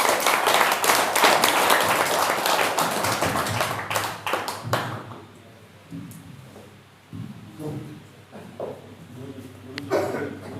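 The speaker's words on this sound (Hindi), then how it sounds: "एक बार जोरदार तालियों के साथ वैद्य जी का स्वागत करें।" An audience applauds loudly to welcome a traditional herbal medicine practitioner at a training session; dense clapping fills the first five seconds, then fades into scattered claps and quiet room noise.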